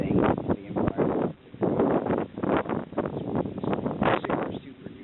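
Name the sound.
strong wind blowing outdoors in Florida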